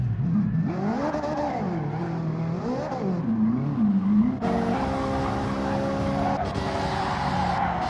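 A Gran Turismo 7 Gr.4 Ferrari race car at Suzuka, engine revving up and down through gear changes with rising and falling pitch, then a steady high whine as another car sounds alongside, loud and close throughout.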